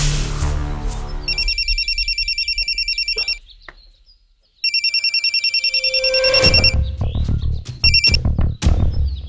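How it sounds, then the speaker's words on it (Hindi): A telephone rings in rapid repeated bursts, pauses briefly, then rings again before handling clatter and knocks follow near the end. "वो भुल्लर अंकल, उनको फोन करके देखिए।"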